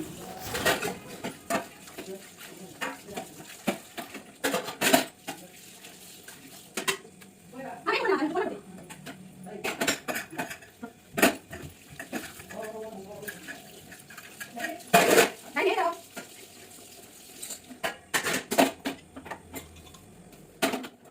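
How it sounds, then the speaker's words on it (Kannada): A pile of pots and dishes is washed by hand in a home kitchen, with scattered clanks, clinks and scraping of metal utensils, occasional running water and intermittent speech. "ಈಗ ಪಾತ್ರೆಗಳನ್ನ ನಾನು ತೊಳಿತಾ ಇದ್ದೀನಿ"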